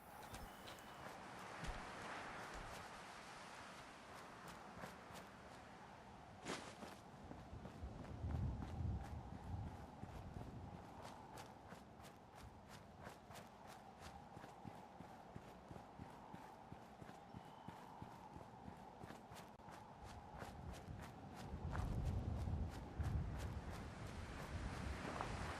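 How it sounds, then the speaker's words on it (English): Steady, rhythmic footsteps in Fallout 4 with liminal and horror mods tread on for the whole stretch, a continuous run of even thuds over a low ambient background. "I just heard footsteps"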